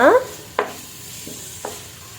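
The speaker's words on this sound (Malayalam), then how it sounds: "ശേഷം കുറച്ച് ജിഞ്ചർ ഗാർലിക് പേസ്റ്റ് ഇതിലേക്ക് ഇട്ട് കൊടുക്കാം നല്ല പോലെ ഇളക്കുക ഇളക്കി യോജിപ്പിക്കുക" Ginger garlic paste is stirred in a frying pan for biryani, giving a soft sizzle with a few separate scraping strokes of a spoon against the pan.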